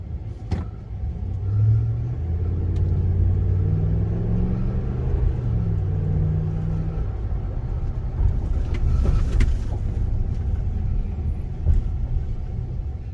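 A 2017 Ram 1500 pickup truck driving during brake bedding stops, with a steady engine and road rumble, rising and falling tones as it speeds up and slows, heard from inside the cab with no talking.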